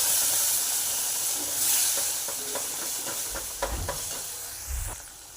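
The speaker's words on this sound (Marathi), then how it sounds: "आता आपण ही डाळ ओतून घेऊया।" Cooked dal hits a hot tempering in the pan with a bright hissing sizzle that starts strong and slowly subsides, broken by a few soft stirring knocks and clinks of the vessel.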